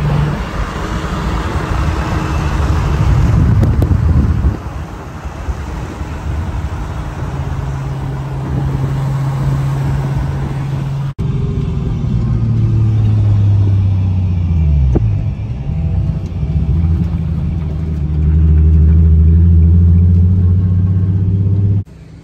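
A car engine rumbles steadily with a low drone and changing pitch as the vehicle drives, with loud road noise throughout and no talking.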